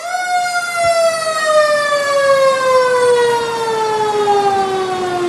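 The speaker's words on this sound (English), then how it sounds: "Doesn't matter if your car horn is puny if you have a siren to go along with it, right?" Fire truck siren from the North Haven Fire Department at a Christmas parade, wailing loud and steady with a slowly falling pitch that sweeps down across the whole stretch, no talking over it.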